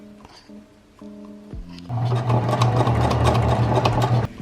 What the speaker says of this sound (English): I'm going to switch over to a zigzag stitch and keep it at the same stitch length.